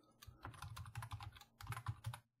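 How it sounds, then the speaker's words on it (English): Keys clatter in quick bursts as a commit message is typed on a computer keyboard, close and clear with short pauses between runs of keystrokes and no talking. "Let's type that in."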